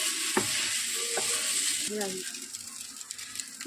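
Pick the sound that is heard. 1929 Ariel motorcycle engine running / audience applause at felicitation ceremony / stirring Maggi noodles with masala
stirring Maggi noodles with masala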